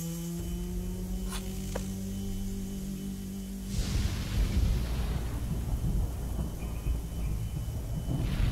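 Thunder rolls in the video game Chaos on Deponia, a deep rumble that swells about midway through over a steady low electrical hum and lingers as a close, heavy roar.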